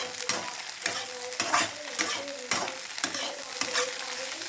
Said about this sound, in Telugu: సో ఉల్లిపాయ పచ్చిమిరపకాయలు వేసుకోవాలి.